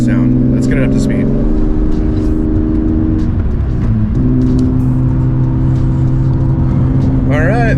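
BMW E36 car accelerating up to speed, its engine drone rising in pitch with a gear shift midway, heard loud from inside the cabin with road rumble and a voice talking over it.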